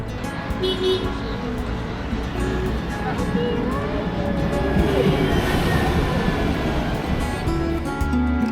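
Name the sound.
tram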